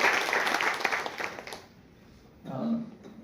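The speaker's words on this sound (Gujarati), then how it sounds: "તાળીઓથી આપણે બધા સ્વાગત કરીએ." A college audience applauds to welcome a guest, with a burst of clapping that fades out after about a second and a half, followed by a short stretch of a voice speaking.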